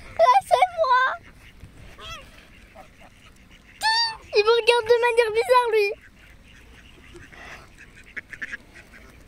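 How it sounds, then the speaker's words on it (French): Ducks crowd around close by, letting out loud bursts of nasal, repeated quacks in several clusters, while someone speaks briefly between them. "Je suis entourée de canards."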